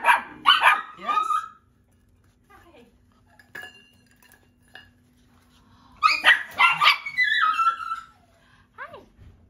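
Young puppies from a litter yip and bark in short high bursts at home, two clusters of excited barking close by with clinking dishes and a person talking nearby.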